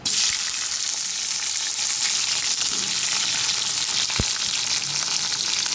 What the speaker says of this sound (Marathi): कढईत तेल ठेवलेलं आहे मोहरी टाकली